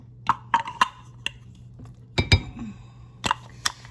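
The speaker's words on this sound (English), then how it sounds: "So I'm taking the grinder out." Metal meat grinder parts clink and knock against a bowl as the grinder is lifted out while making bologna salad: a few sharp, close clatters in uneven bursts with short pauses between.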